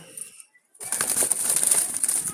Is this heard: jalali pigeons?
yes